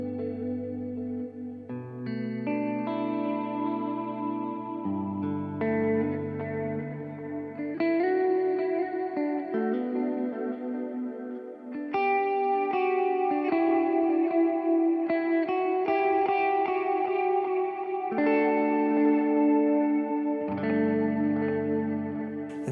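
Guitar notes and chords ring through an Alexander Pedals Rewind echo with sine-wave modulation, rate nudged up and depth near noon, each phrase trailing into warbling repeats with no talking.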